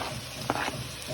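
Garlic and green chillies fry in a pan with a steady close sizzle and a short burst of spattering in the middle.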